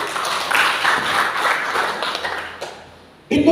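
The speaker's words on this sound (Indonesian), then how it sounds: "Beri tepuk tangan buat Tuhan." Clapping from a church congregation giving praise during a sermon: a burst of mixed claps for about two and a half seconds that tapers off, followed by a brief loud sound at the end.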